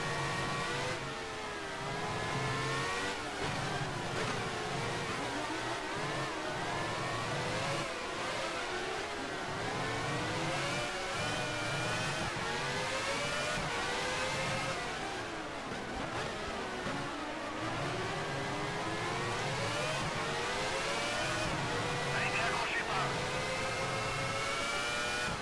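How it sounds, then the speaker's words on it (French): A Formula 1 race car engine in a 1994 Brazil Grand Prix racing game drones steadily throughout, its revving pitch sweeping up and down continuously as a following car stays close behind. "Vous entendez hein, le bruit du véhicule derrière."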